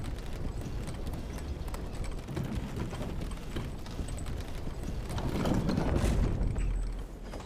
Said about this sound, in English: No, it's a skeleton of a horse!